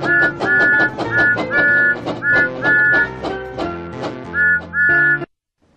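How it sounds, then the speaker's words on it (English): A multi-toned steam whistle from a Thomas & Friends Wii video game blows in a repeated series of long and short blasts over a busy chugging steam engine background, loud and close. "Down on the Wii remote to blow the whistle."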